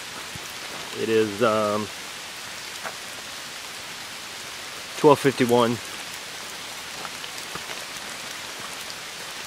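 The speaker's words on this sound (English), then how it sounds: "Well, it started raining again." Steady rain falls over a hiking trail on the Appalachian Trail, a continuous soft hiss throughout, with someone speaking briefly twice over it.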